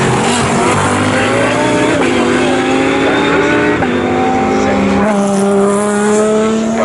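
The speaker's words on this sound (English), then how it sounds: "but that is a GTB car, 2nd in GTB for Dale Shelton." GT race cars at Snetterton circuit roar past in a continuous loud engine drone, with rising and falling pitch sweeps as they accelerate and change gear, plus faint tire squeal.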